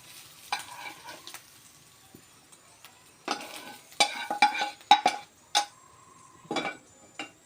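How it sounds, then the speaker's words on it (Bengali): Potatoes fry gently on a low flame while a spatula scrapes and stirs them in the pan, making irregular close clinks and scrapes over a faint, quiet sizzle. No voices are heard. "খুব আস্তে আস্তে লো ফ্লেমে ভাজতে হবে আলুগুলো, যাতে সিদ্ধ হয়ে যায়।"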